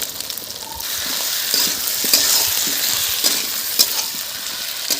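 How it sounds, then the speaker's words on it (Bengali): Ginger-garlic paste, onion and potato fry together in a pan for an egg omelette curry, giving a steady close sizzle with repeated stirring scrapes and light clinks throughout, no talking. "আদা রসুন পেঁয়াজ, তার সাথে আমি আলুটা দিয়ে দিচ্ছি। 10 মিনিট একসাথে ভেজে নেব।"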